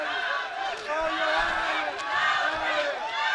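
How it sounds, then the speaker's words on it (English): An MMA fight crowd roaring and cheering on a fighter in the final minutes of a bout, a loud, sustained arena din of shouting voices with a commentator talking over it. "Crowd really getting behind him here in the final 2 minutes. Trying to cheer him on"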